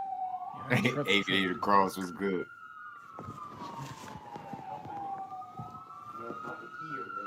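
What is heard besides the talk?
ambulance sirens on street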